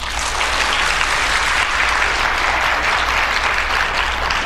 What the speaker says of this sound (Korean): 나올 때 박수로 맞이해 주시기 바랍니다.